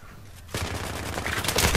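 Gunfire erupts in Battlefield 3 on PS3 multiplayer after a brief quiet moment, a loud, dense burst of rapid automatic shots that keeps building until the end.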